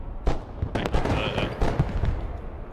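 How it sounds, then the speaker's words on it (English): Tanks being blown up in the Broken Arrow war game: a dense run of sharp explosive bursts and crackling blasts, fairly close and loud, repeating irregularly over about three seconds. "I'm blowing up the tanks"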